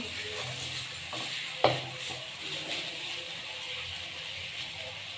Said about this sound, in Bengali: এবারে এটাকে আমি ভালো করে মিশিয়ে নেব।